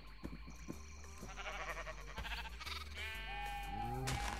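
Sheep in the video game Minecraft bleat several times in a row, loud and nasal, over the game's background music and sound effects, with no one speaking.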